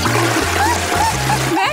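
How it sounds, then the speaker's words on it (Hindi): A blue toilet flushes with a steady rush and splash of water that runs throughout, while voices talk over it. "तुमने इसे फ्लश क्यों किया?"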